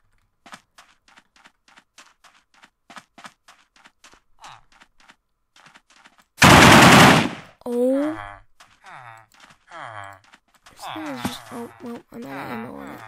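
Loud gun blast in a modded Minecraft game, a dense broadband burst lasting about a second, followed by game sound effects and bursts of speech.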